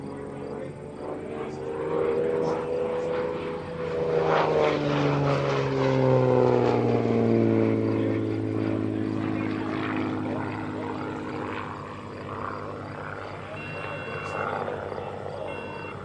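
A small aerobatic propeller airplane drones past at the Wings Over Wheeling air show, its engine pitch sweeping downward as it passes and then fading to a distant hum, while an announcer talks over it.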